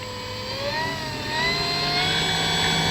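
A Dynam F6F Hellcat RC plane takes off, its electric motor a rising, steady whine that climbs in pitch and grows louder as it lifts away.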